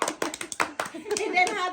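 Several sharp hand claps in quick, uneven succession, clapping for a child named Hamoudi at home, close and fairly loud, followed by a child and an adult talking.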